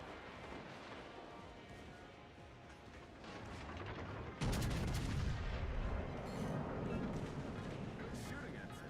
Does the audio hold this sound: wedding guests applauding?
no